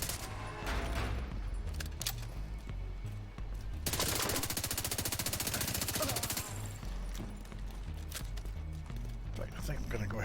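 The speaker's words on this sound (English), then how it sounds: "Probably should change over to one of my light machine guns" Rapid light machine gun fire in The Division 2 at Coney Island, a dense sustained burst of automatic shots in the middle stretch with scattered gunfire and game noise around it.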